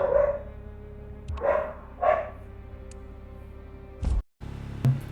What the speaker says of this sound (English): Just got a crazy dog, so apologies if from time to time you hear a barking in the background